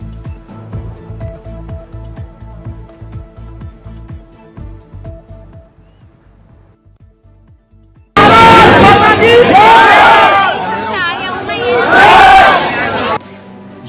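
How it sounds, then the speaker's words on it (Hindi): At a teachers' street protest in Lucknow, a crowd scuffles with police: muffled rhythmic thumps and jostling first, then a sudden surge of loud shouted slogans and overlapping voices, peaking twice before easing. "जहां पर आप देख पा रहे हैं नारेबाजी के साथ ही साथ भीड़ और पुलिस के साथ धक्का मुक्की खींचतान भी देखने को मिली"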